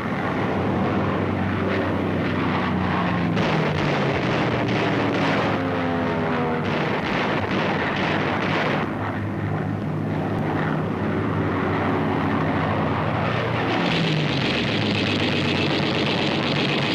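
American P-40 fighter engines drone steadily overhead in flight, with a loud, continuous roar and shifting pitch as planes pass, accompanied by low rumbling bursts.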